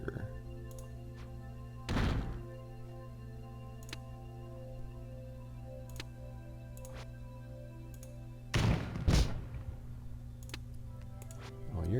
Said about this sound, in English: I am going to deploy that other sentry turret right here